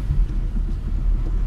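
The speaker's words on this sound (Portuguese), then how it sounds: "Cara, olha o ronco, saindo devagar já impressiona." Deep, continuous engine rumble from a Volkswagen Passat GTS running on ethanol with a 1.8 engine, heard close as the car moves off slowly, steady and low with small surges.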